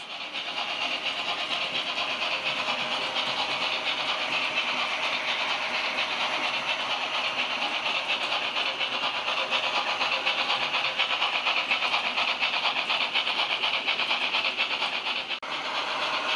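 Model locomotives, including a Bachmann Deltic, run around a track under analogue control, giving a steady, loud whirring and rolling hum that continues throughout. No one speaks.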